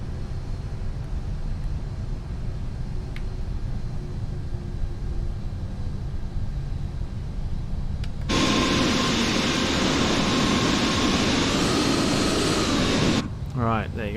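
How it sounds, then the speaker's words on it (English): An F-18 jet in Microsoft Flight Simulator 2020 suddenly roars into a loud, broad engine blast after a low steady hum, holding for about five seconds before cutting off abruptly. "Alright, here goes another F-18 ahead of us."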